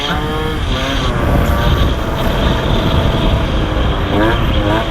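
A Nitro 70 Athena Sport scooter's two-stroke engine runs close and loud with a buzzing, slightly uneven note that rises briefly near the start and end, and someone talks over it.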